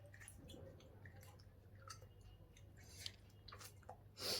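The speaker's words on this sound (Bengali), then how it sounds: "আমরা সবাই খাচ্ছি আরেকজন খাচ্ছে" Soft wet chewing and mouth sounds from someone eating at home late at night, faint and close, with scattered small clicks over a low steady hum and a brief louder rustle at the end.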